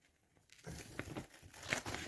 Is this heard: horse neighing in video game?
no